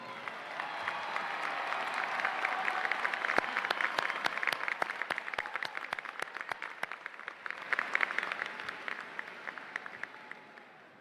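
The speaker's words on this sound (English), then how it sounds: "please rise and give them a round of applause" A crowd applauds steadily at a high school graduation ceremony, clapping swelling and fading, with a few sharper individual claps standing out.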